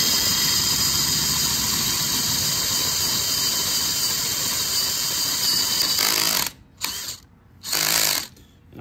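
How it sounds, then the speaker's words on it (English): A power drill set to a torque setting bores a 3/8 inch hole in a motorcycle swing arm. It whines steadily for several seconds, then cuts out, pauses and restarts in short bursts. "I'm going to drill out the 3/8 here."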